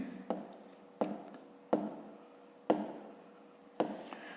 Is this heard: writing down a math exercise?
yes